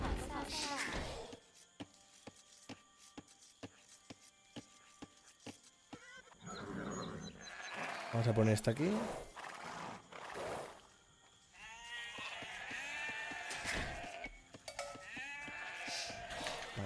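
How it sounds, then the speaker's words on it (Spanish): Sheep bleat repeatedly in a video game, mixed with clicks and other game sounds at moderate volume, while someone speaks over it at times. "atentos al sonido de las ovejas"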